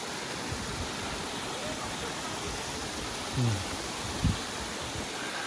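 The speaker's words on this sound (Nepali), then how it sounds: "साइडमा चाहिँ यस्तो खोला छ।" A mountain stream beside a hiking trail on Mount Takao in Japan gives off a steady, broad rushing wash throughout, with a couple of brief low thumps from nearby movement.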